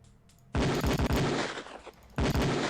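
Beretta pistol shots on a police firing range in Police Quest 4, a quick volley of loud, close reports in two rapid bursts, the second after a short pause.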